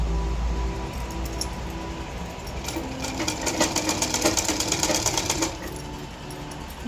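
A sewing machine stitches piping made from a bias-cut fabric strip onto a blouse, a steady rapid whirring run that grows louder and more rhythmic midway before easing back to a low hum.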